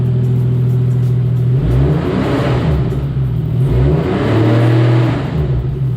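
A Nissan 240SX with a swapped 1JZ VVTi engine runs while warming up, its loud steady idle rising in two revving swells before settling back, heard alone up close.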